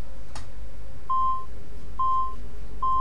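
Beeping in the video game Assassin's Creed 2: three clean, evenly spaced electronic tones, each about half a second long, after a short click, with no voices.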